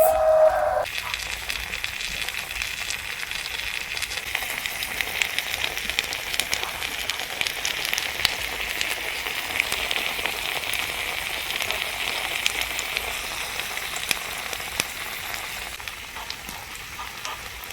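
Eggplant sandwich cooking in a pan on a chilly early morning gives a steady, even sizzle that runs unbroken throughout, close and moderately loud, with no talking.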